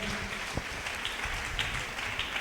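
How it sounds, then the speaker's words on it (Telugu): A church congregation breaks into applause during a testimony service, a steady wash of many hands clapping that sounds fairly distant and subdued and fills the short stretch. "గట్టిగా చప్పట్లు కొట్టి దేవుని మహిమ పరుద్దాం."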